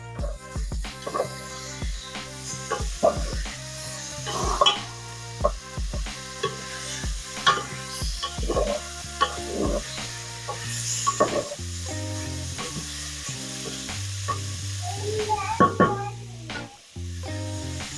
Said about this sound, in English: grab a wooden spoon, kind of stir it up